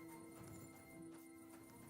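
Horses in the medieval game Kingdom Come: Deliverance 2, with clip-clop hoofbeats and a faint whinny over a steady tonal game ambience, nearby and continuous.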